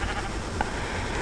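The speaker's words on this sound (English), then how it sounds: "Darn you, creepy sheep." Sheep bleating in the video game Minecraft, a single short bleat in the middle of a constant noisy game background, with no talk.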